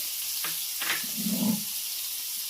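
Chopped onions and green chillies frying in a pan, a faint soft sizzle with a couple of quick stirring clinks and a brief louder bubbling hiss.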